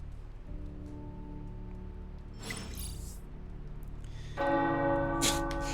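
A church bell rings in the video game Marvel's Midnight Suns, steady sustained tones under soft rain-like ambience, growing louder and brighter near the end.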